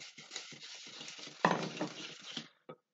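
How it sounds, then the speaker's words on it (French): A wooden spoon stirs butter and sugar in a mixing bowl, giving a soft, continuous gritty scraping with a few louder strokes and a brief final tap, close by and without talk. "je vais mélanger avec une cuillère en bois"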